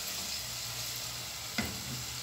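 Onion softening in a pan for a pasta dish gives a steady, gentle sizzle throughout, broken once by a single soft tap near the end.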